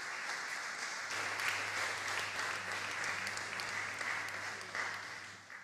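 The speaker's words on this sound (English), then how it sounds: "So I want you to give yourselves a round of applause" A church congregation at a Sunday service applauds for several seconds, a dense, even wash of clapping heard from a little distance in a reverberant hall, with a low steady hum beneath it and no speech.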